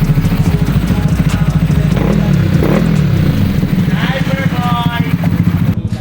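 A motorcycle with a stock exhaust idles and revs nearby, throbbing loudly and steadily with a rhythmic pulse, while voices talk over it.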